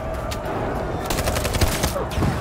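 Rapid gunfire bursts from a firefight in the video game Detroit: Become Human, dense overlapping shots crackling over a constant roar of game sound, growing busier in the second half.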